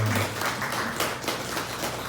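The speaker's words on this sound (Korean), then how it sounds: "박수 한번 부탁드리겠습니다" Sustained, dense applause from an audience at a talk event fills the whole moment, a steady wash of many hands clapping at moderate loudness with no clear speech.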